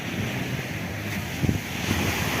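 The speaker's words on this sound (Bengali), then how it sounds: "এদিকে দেখুন আরব সাগর এটা হচ্ছে আরব সাগর" Arabian Sea surf rolling onto Alappuzha beach in Kerala, a steady wash of waves with wind buffeting the microphone and a couple of slightly stronger breakers near the end.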